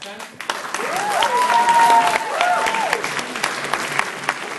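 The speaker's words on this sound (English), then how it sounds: "We just want to give a quick round of applause for each of the actors" A theatre audience applauds the actors of a stage play with sustained, dense clapping that swells and then eases slightly, while a voice rises briefly above the applause.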